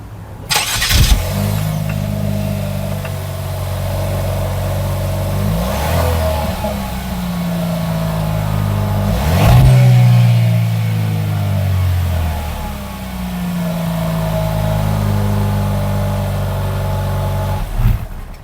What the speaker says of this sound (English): just in case you're curious how 175 horsepower sounds